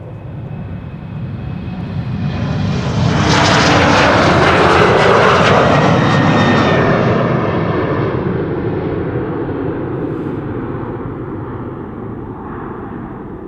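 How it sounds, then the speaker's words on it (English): An Embraer 190 passenger jet flying for KLM approaches at Schiphol Airport with a loud, swelling engine roar that peaks mid-clip then slowly fades as it passes, heard alone. "Plane on the left now coming towards us is German Airways, flying for KLM, flight 1763, destination Bremen in the north of Germany."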